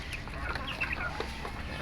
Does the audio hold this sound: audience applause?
no